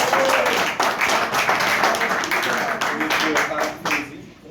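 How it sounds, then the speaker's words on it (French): Loud applause from a conference audience, dense clapping filling the room with voices mixed in, sustained before fading out near the end. "Je vous demande d'applaudir très fort."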